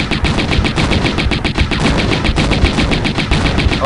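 Rapid continuous gunfire as Lara shoots in Tomb Raider: Unfinished Business, Atlantis level The Hive, a dense steady stream of loud close shots in an even rhythm with no pauses.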